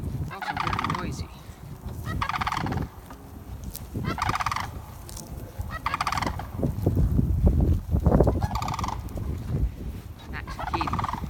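Loud, rattling sandhill crane calls repeat in bursts every couple of seconds, with several cranes calling close by over a rumbling background.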